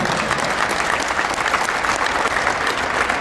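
A hall full of people applauding all the contestants at the Cupa Dacia 2011 gala, with thick, continuous clapping held at an even, loud level throughout.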